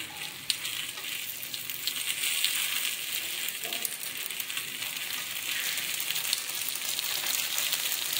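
Appe made from idli batter fry in oil in an appe pan, giving a constant, close hiss and sizzle with faint clicks throughout and no talking.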